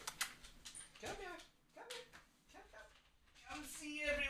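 A little puppy whimpers and yips in short, soft bursts while a person talks warmly over it nearby.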